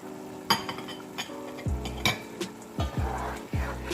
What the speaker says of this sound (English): Just going to give it a stir